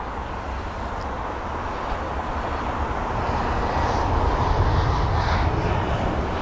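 A British Airways Airbus A320-200 arriving from Gothenburg lands at Heathrow with a broad, steady engine rumble that swells gradually louder toward the end, heard alone without voices.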